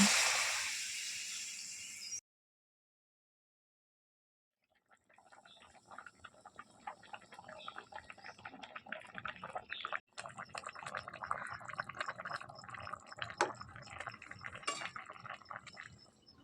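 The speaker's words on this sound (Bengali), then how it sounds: "এবার আমরা জল গরমটা এর মধ্যে ঢেলে দেবো" Hot water poured into a vegetable curry in a pan: a burst of rushing noise, a brief silence, then a steady run of bubbling, splashing liquid with small clinks, fairly faint and close.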